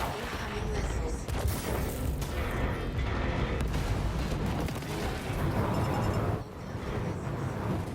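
Missile explosions and mechanical battle noise from the mech combat game War Robots Frontiers, a dense continuous barrage of booms and blasts with a brief dip near the end, with a voice talking over it.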